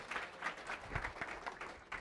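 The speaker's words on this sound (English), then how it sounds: "Give them a round of applause" A round of applause from the audience at an awards event, a fairly quiet, brief patter of many hands with a few sharper individual claps.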